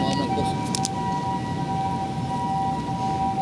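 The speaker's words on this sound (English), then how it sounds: "You hear the sirens every once in a while." Distant sirens wail over a noisy outdoor background at a downtown golf course during an amateur golf championship, a steady tone holding throughout with faint wavering, no talking.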